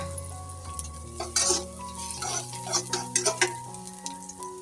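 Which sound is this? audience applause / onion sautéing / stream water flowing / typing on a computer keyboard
onion sautéing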